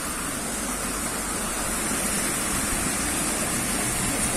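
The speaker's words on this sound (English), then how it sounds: "It's like a waterfall." Steady, loud rush of falling water, a dense unbroken roar like a waterfall close by, with no voices.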